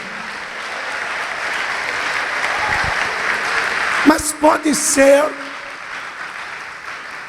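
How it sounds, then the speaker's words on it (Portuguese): A church congregation claps through a steady wash of applause, with a voice speaking over it partway through before the clapping fades out. "Vamos aplaudir o Senhor por isso."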